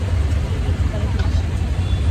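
A steady engine drone and road rumble from an auto rickshaw in motion, with someone talking over the noise throughout.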